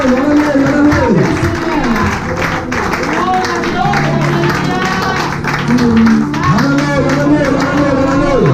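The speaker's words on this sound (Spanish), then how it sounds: "Dale un aplauso, dale un aplauso, dale un aplauso." Church congregation claps and cheers in a lively mass of applause, with overlapping voices and shouts rising above the steady clapping.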